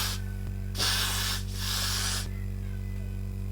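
Aerosol spray applied to wig lace in two short hissing bursts, each about a half to three-quarters of a second, close and clear over a steady low electrical hum.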